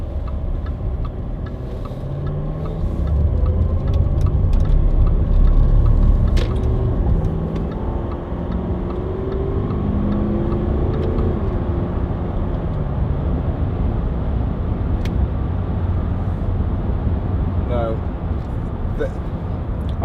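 A Range Rover 4.4 TD V8 Westminster 4x4 drives along a slightly bumpy dual carriageway, with a steady low engine and road rumble heard from inside the cabin and a few small ticks and clicks.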